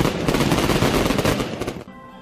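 Fireworks at Chinese New Year celebrations crackle in a dense, loud barrage of rapid bangs that then cuts off into quieter background noise.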